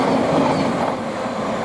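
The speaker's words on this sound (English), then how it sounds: "arriving in now, we have a 387 and 700-146 heading from Cambridge to Brighton" Class 387 and Class 700 electric trains pulling into Potters Bar station on the East Coast Main Line, a steady close rumble of wheels and rolling stock with faint clickety-clack throughout.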